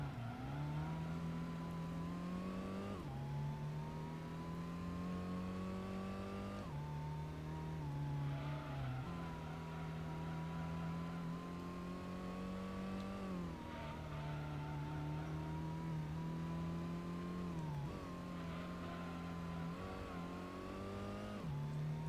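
Race cars in Gran Turismo, a Viper GTS and an upgraded NSX, drone steadily with engine pitch rising and falling through gear shifts, loud and continuous throughout with no voices.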